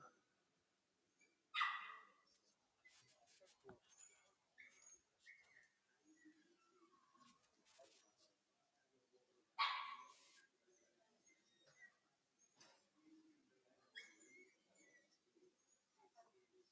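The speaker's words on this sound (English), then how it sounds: "We just had a dog" A dog barks inside an indoor lawn bowls venue during a championship qualifier, two sharp loud bursts several seconds apart over a quiet hall with faint background noise and occasional soft knocks.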